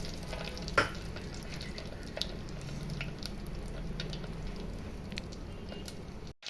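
Fenugreek seeds frying in sesame oil for a Tamil lunch dish: a faint, steady, close sizzle with light crackles and a few soft pops, no speech, cutting off abruptly at the end.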